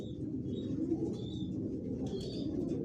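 Racing pigeons coo in their loft, a continuous low throaty murmur of several birds close by, with faint higher chirps above it and no talk.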